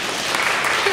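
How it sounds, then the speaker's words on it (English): A Lutheran church congregation breaks into applause during a December worship service, a dense, steady wash of many hands clapping together throughout, fairly close and full. "we're going to clap now"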